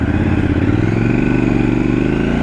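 A Triumph Scrambler 1200 XE motorcycle under way, its engine note loud and close with a steady rhythmic thrum that climbs gradually in pitch as it pulls through a gear.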